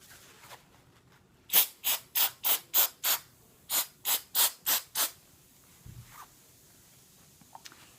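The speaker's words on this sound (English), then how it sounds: "I'm going to go ahead and spray this." Trigger spray bottle misting cleaner onto a Coach fabric purse, a run of about twelve quick, evenly spaced hissing sprays in two bursts, close and crisp, followed by faint handling sounds.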